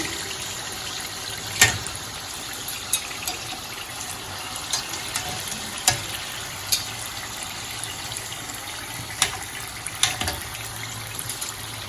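Muruku snacks deep-frying in hot oil, a steady close bubbling hiss broken by a few sharp pops and crackles spread across the clip, with no voices.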